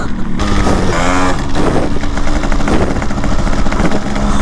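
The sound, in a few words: vintage Yamaha RX135 motorcycle exhaust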